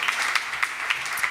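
An audience at a marketing summit gives a short burst of steady, dense applause.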